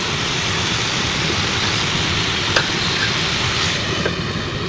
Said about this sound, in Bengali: দিয়ে আবার লাড়াচাড়ি সেটাকে ভাজা ভাজা করতে হবে